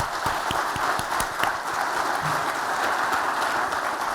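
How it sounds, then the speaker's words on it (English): An audience at a conference keynote applauds the UK Minister for the Armed Forces, Luke Pollard, with dense, even clapping throughout, a few sharper individual claps standing out. "So please do give a warm round of applause to Luke Pollard, the Minister for the Armed Forces."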